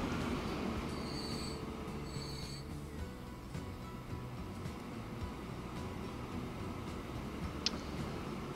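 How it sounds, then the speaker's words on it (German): Train wheels squeal and grind steadily over a crossing in Transport Fever 2, a quiet, continuous metallic rumble with faint high whines early on. "Jetzt haben wir da gerade einen Zug auf dieser Kreuzung gefahren."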